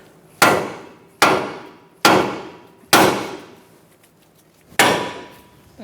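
A hammer strikes the steering knuckle of a 2012-2019 Fiat 500 to free the tie rod, five sharp metallic taps at roughly even intervals with a short pause before the last, close and loud with no talking.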